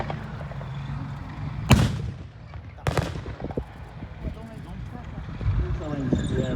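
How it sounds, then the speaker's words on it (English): Two loud, booming cannon blasts from Sherman and Panther tanks at a Tankfest display, about a second apart, with an announcer talking over a crowd and engine rumble. "both Sherman and Panther fire."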